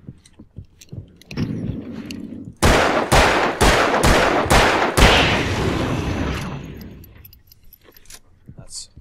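Hunting rifle firing in the Alan Wake video game, a rapid series of about six loud, sharp gunshots close together, set against game noise and some voice.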